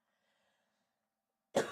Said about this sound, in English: I've got to have another cough.